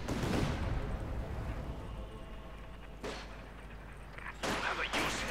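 Battlefield gunfire in the Company of Heroes 2 strategy game: dense, continuous rattling shots and booms filling the whole stretch, with sharp bursts standing out near the end and a voice talking under it.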